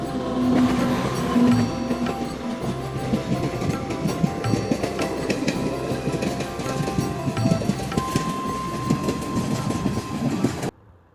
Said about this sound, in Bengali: তিস্তা তোষা এক্সপ্রেস তার যাত্রাপথের প্রথম হল্ট নিউ কোচবিহার রেলওয়ে স্টেশনের প্ল্যাটফর্ম নম্বর ওয়ানে এসে দাঁড়ালো